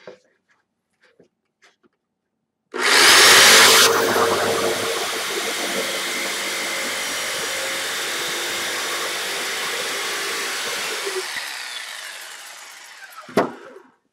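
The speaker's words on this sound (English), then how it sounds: "I'll just cut it out with my jigsaw" A jigsaw cuts along a marked line in a wooden board for the base plate of a small experiment cart. It starts abruptly with a loud buzzing roar that settles into a steady, close cutting noise for about eleven seconds, then stops.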